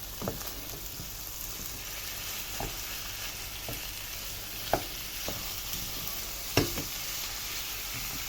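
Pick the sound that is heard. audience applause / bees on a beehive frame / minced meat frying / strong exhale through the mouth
minced meat frying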